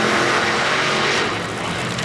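Funny Car drag racing engines of about 8,000 horsepower each at the NHRA U.S. Nationals in Indianapolis, a loud, dense, crackling roar close by, steady then easing slightly toward the end.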